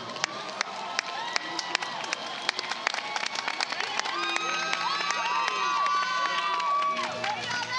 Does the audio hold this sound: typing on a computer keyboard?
no